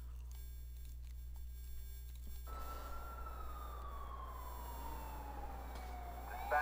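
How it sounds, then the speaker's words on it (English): Ambulance siren in the GTA IV video game, a rising and falling wail that starts partway through and continues at moderate loudness over a low steady hum, with no talk. "So we got ambulance right here."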